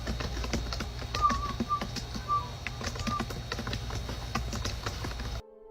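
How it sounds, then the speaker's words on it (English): A laptop keyboard clicked in a bedroom, its rapid irregular taps steady and fairly close, with a few faint whistling tones sounding in the background before the sound cuts off abruptly. "You can hear the clicking of the keyboard"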